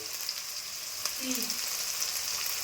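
Onion and chillies fry in a pan, a bright, even crackling sizzle that holds steady throughout with one faint tap from a utensil partway through.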